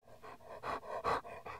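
A dog pants in a quick, steady rhythm, about seven close breaths in under two seconds, with nothing else audible.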